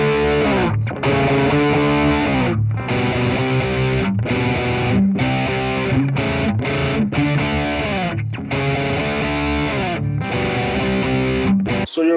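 Electric guitar plays chords through a Boss GT-1000 set to a Twin Reverb amp model with heavy distortion, dense sustained strums with brief gaps between phrases, loud and continuous, no voices.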